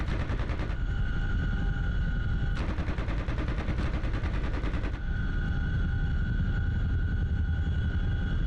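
A helicopter door gunner in the DCS World flight simulator fires a machine gun in long, continuous loud bursts that briefly pause and restart, over a steady rotor and engine drone.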